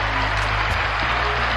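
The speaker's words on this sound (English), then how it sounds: "Can we give a round of applause for that?" A short burst of audience applause, loud and dense, over a low steady hum, lasting under two seconds with no speech.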